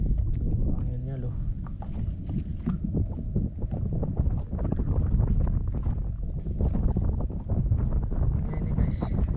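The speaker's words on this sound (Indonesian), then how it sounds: "Anginnya loh." Strong wind at sea buffeting a fishing boat near a wooden fish-aggregating raft off Penyu Island, loud rumbling gusts and microphone wind noise throughout, with people talking over it.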